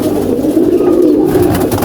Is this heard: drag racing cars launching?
no